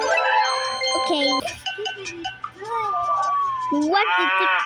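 A cartoonish cow moo from a video game puzzle, a sliding tonal call repeated a few times with bright synthetic game sounds around it, loud and close.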